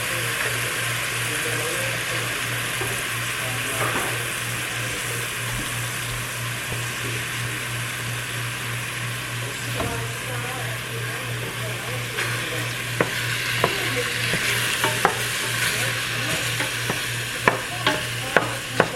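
Ground turkey browning in a pan for stuffed pepper soup gives a steady close sizzle and crackle, with occasional sharp clicks and scrapes of stirring toward the end.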